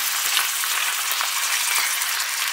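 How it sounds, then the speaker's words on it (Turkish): Around half a kilo of chicken wings fry in olive oil in a pot, giving a dense, continuous crackling sizzle, loud and close, with a few faint utensil taps near the start. "Önce kanatları kızartıyorum."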